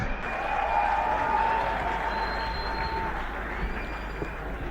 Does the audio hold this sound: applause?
yes